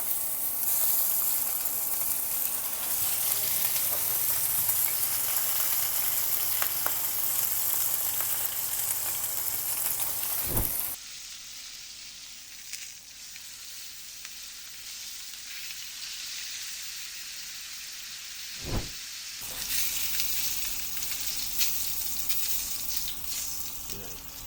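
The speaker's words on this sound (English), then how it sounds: "We'll do salt side down first and sear our pork chop." Pork chop searing salt side down in olive oil in a pan, a loud steady sizzle of frying running throughout, dropping to a quieter crackle partway through after a sharp clatter, with a couple of brief knocks.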